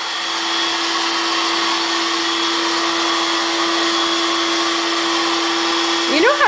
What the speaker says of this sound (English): With your other vacuum, push and pull and push and pull.